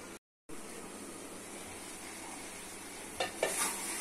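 Taro, eggplant and dried shrimp sauté in a pan with a soft, steady sizzle, cut by a brief dropout near the start and a couple of clinking stirs at the end.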